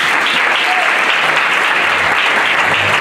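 Loud, sustained applause from a church congregation on Easter Sunday, dense and continuous throughout, with a voice faintly mixed in.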